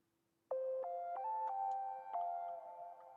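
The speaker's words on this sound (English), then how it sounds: "It's this really portamento lead that sounds like this." A portamento synth lead plays a short melody fill, its bright sustained tone gliding between a few pitches after a sudden start, heard alone and fairly clean.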